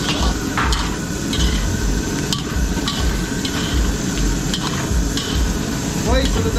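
Garlic, onion, carrots and potatoes stir-fried in a pan for catering, with a steady loud sizzle under scraping, clanking stirring strokes close by.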